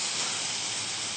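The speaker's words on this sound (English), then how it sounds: "you always want to hear that sizzle when you add your additions of stock" Hot simmering stock added to a pan of creamy carrot rice gives a loud, dense, steady sizzle and hiss that holds evenly throughout the short burst with no voices.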